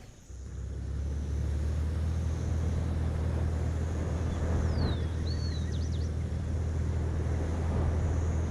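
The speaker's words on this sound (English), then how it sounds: "I'm gonna take a 512 TR, I think. I'll listen to the engine." Ferrari 512 TR engine in Forza Horizon 5, a steady low rumbling drone held continuously near and loud, with faint chirpy tones above it, no talking.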